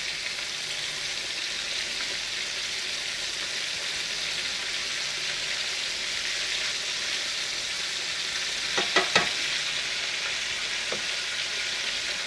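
Buttermilk-battered chicken breast fries in hot oil, giving a steady, even sizzle throughout, with a few brief clatters of a utensil or pan near the end and no talking.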